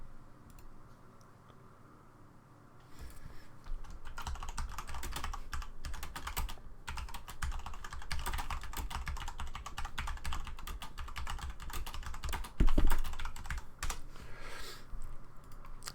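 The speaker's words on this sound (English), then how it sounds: "you're going to hear me typing vigorously as I talk to Justin" Vigorous typing on a computer keyboard, a dense, steady stream of clicks that picks up after a quiet start and runs continuously, close and fairly loud, with one louder knock near the end.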